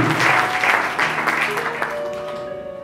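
An audience applauding representatives of the National Assembly at a festival, a short burst of clapping that quickly thins and fades out.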